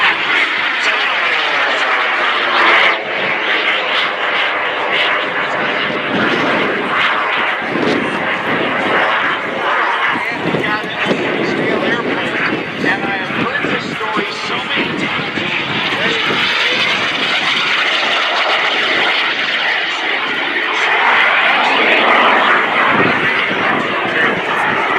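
A propeller airplane roars loud and close throughout a flying display at the 2024 MCAS Cherry Point air show, its engine note shifting as it maneuvers overhead.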